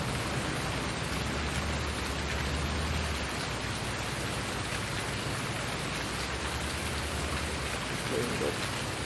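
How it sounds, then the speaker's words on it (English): Steady rain falls in the farming game Farming Simulator 19, a dense, even hiss of drops on the ground and surfaces that runs unbroken through the whole stretch, close and fairly loud, with no talk over it. "This rain's kind of spoiled whatever harvesting."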